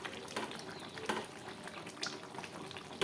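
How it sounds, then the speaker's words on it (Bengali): A pot of mourala fish and eggplant curry with bori bubbles and simmers, a soft continuous burble with occasional louder pops, faint and close. "বড়ি দিয়ে ফুটিয়ে নিলাম"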